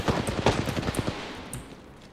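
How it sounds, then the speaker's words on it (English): A rapid burst of automatic gunfire from the Apex Legends video game rattles off in quick succession for about a second, then fades into quieter background game noise. "They are busy shooting another team."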